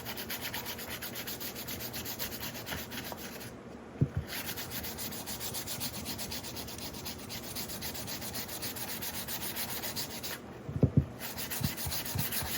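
Sanding on a clay cone being shaped into a witch's hat makes continuous rhythmic rubbing strokes, close and steady, with a couple of brief pauses and light knocks.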